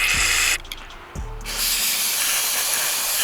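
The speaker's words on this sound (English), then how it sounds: "spray the throat of the carburetor" Carb cleaner hisses from an aerosol can into a Yamaha Viper 700 carburetor in two short bursts and then one long continuous spray, close and loud.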